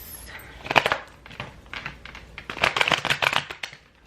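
Tarot cards being shuffled by hand with the deck read in reverse: crisp papery riffles and taps in irregular bursts, close and fairly loud, with no voice over them.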